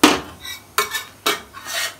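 Rendered tail fat is added to a cooking pot of traditional Iranian abgoosht, with four sharp metallic clanks of utensil against pot, close and distinct, and no talking.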